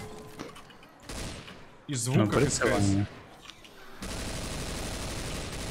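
Bursts of gunfire from a weapon in the video game Left 4 Dead, a loud cluster of rapid shots in the middle, with players talking before and after.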